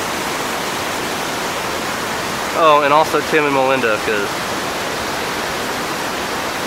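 A Pacific Northwest waterfall roars as a steady, loud broadband rush that fills the whole clip, with a person talking briefly over it partway through.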